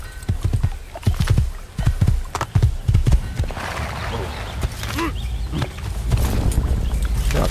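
Horse hooves clip-clop at a steady trotting rhythm in the video game Assassin's Creed, close and loud, with brief pauses and a short whinny amid the footfalls.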